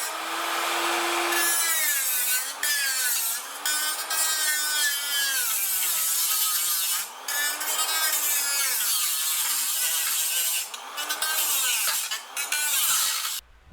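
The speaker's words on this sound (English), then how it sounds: "We're going to go get the front part here removed, starting with the the electric cut-off tool." An electric cut-off tool slices through the rusty steel rocker panel of a Mercury Sable, a loud, high, grinding whine that rises and falls in pitch, with several brief pauses.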